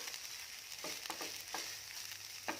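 Raw rice is stir-fried with mushrooms and seasoning for a vegetarian chicken rice, giving a soft, quiet sizzle punctuated by a few light scraping stirs.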